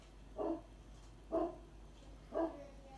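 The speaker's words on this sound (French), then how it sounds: "il y a le chien qui aboie" A dog barks three times at a steady pace, each bark short and moderately distant, with quiet room noise in between and no talking.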